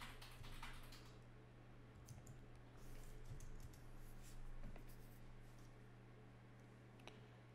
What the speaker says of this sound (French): Ne t'énerve pas sur le clavier, mon cœur.